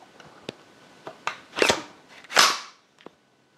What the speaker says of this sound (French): On arme la culasse.